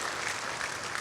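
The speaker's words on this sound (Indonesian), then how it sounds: "Beri tepuk tangan buat dia yang luar biasa" A church congregation at a Sunday service claps together in a brief, steady burst of applause, fairly soft and evenly spread.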